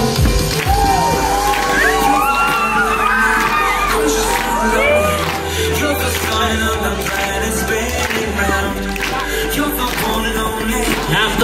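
A crowd at a skateboarding contest cheers and whoops loudly and continuously, with shouts and high excited voices layered over a deep rumbling background.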